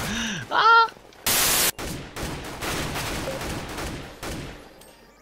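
Gunfire in a Minecraft Hunger Games match, with rapid bursts of shots and a loud sustained blast after some short game tones, followed by a series of repeated shots.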